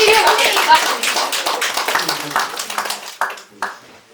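Louder applause at a regional writers' union anniversary event: a burst of hand clapping that thins out into a few scattered claps, with a voice talking over it.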